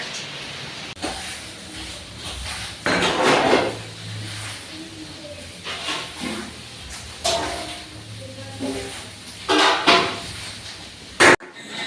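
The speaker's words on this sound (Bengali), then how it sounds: "এই যে সব ঠাকুরের বাসনগুলো আলাদা করে দিচ্ছি" Puja utensils and pots being sorted and handled, giving scattered clatters and knocking bursts over a low background hum, with no one talking.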